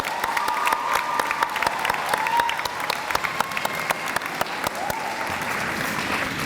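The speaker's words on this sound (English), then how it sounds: "Let's give them one more round of applause" An audience at a school's eighth-grade promotion ceremony gives the finalists a full round of applause, dense, steady clapping with individual sharp claps standing out throughout.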